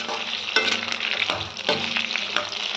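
Green chillies fry in sunflower oil for an Andhra-style chutney, giving a close, steady sizzle broken by a few louder crackling bursts as the pan is stirred, with no talk.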